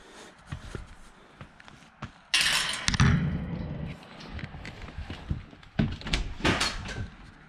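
A dog pushes through a flap-style dog door on a ramp in a custom indoor/outdoor kennel, making repeated hollow knocks and flap slaps plus some scrabbling footsteps, close by, with a few faint voices.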